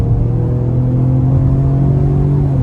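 A 2026 Ford Explorer in sport mode pulls away at about one-third throttle, giving a steady, loud engine drone and low rumble that holds throughout with no voices.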